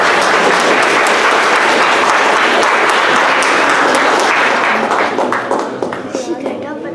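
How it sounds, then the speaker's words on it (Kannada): An audience applauds children after a Guru Purnima shloka chanting. The clapping is dense and loud and holds steady for several seconds, then thins out into scattered claps. Voices can be heard mixed in. "ಒಂದು ಚಪ್ಪಾಳೆ ತಪ್ಪೇಣ ಮಕ್ಕಳಿಗೆ"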